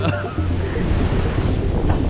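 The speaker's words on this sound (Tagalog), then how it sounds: "yung mga buhok namin ay lumilipad sa sobrang Lakas ng hangin" Strong wind roars and buffets the microphone in a steady, loud rush in Tagaytay, with surf-like noise filling the background and no clear voices.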